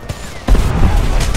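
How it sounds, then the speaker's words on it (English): DPICM artillery rounds explode in a Homefront war game battle at the Golden Gate Bridge: a loud, close rumbling blast with crackling, overlapping detonations that keep booming. "that explosion should kill most of them"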